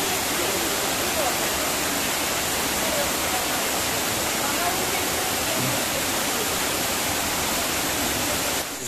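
A waterfall roars in a loud, constant rush of broadband water noise that fills the whole stretch without pause, heard from above the falls at Wadapat Cepung, Indonesia.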